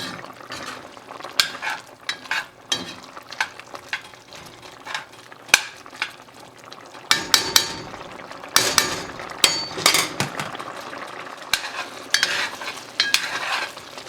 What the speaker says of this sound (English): we want this pork to cook down, get tender